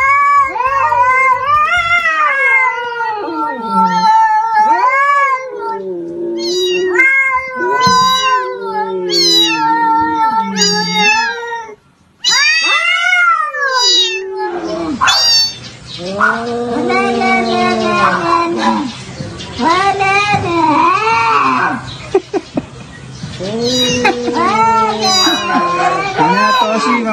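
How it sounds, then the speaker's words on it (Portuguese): Cats meowing and caterwauling, with a string of loud, drawn-out, wavering cries that overlap and trade off, close and prominent, and brief breaks between some calls. "veja os gatinhos aí, pra você ver uns gatinhos de verdade"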